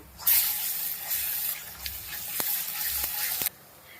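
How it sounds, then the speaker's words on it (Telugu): Ginger paste, curry leaves and green chillies frying in hot oil for a vegetable curry, a loud steady sizzle that starts abruptly and cuts off, with a few sharp spoon clicks against the pan. "ఇప్పుడైతే అల్లం పేస్ట్ యాడ్ చేద్దామండి ఒక స్పూను మొత్తం కలుపుకుందాము"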